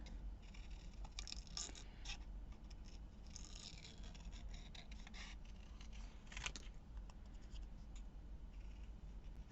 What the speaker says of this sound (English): I'm going to cut out my hearts.